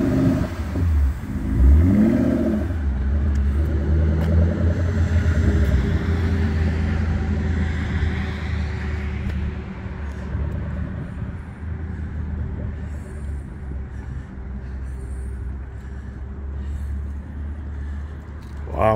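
A Ford Bronco Raptor drives around nearby, its engine rumbling and revving briefly before settling into a steady, continuous drone with no talk.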